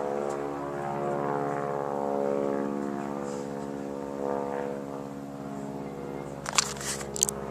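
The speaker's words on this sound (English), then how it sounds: "That's the Tiger Moth plane that you saw yesterday, Jack." A Tiger Moth biplane passes low overhead at an airshow, its propeller engine droning steadily and swelling gently as it nears, then fading, with a few sharp knocks near the end.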